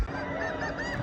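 Geese near the water give out a clear run of repeated honks, close and fairly loud, overlapping one another in a steady call sequence.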